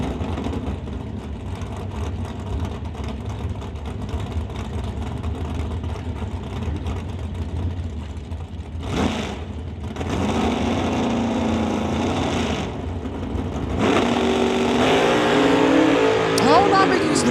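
At a drag strip, a Ford Falcon with a wheelie bar and a Camaro run with engines droning steadily, then surging louder in bursts as the cars launch and accelerate, while a commentator talks over it.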